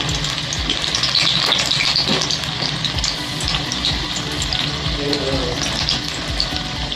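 Dough pieces fry steadily in hot oil in a pan, a constant loud sizzle and bubbling hiss with faint stirring, heard up close and alone without talk.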